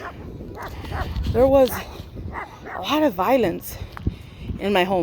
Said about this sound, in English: Excuse the dogs and the music.